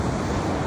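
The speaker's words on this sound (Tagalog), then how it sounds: "Sa mismong beach dito sa talagang tabi ng dagat." Sea waves wash onto a beach in a steady broadband roar of surf mixed with wind buffeting the microphone, loud and continuous with no voices.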